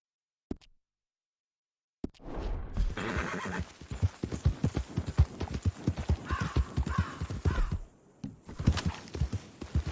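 Horse hooves clip-clopping in Red Dead Redemption 2, in a brisk, steady rhythm after a brief silence, with a horse whinnying partway through; close and clear, with no talking.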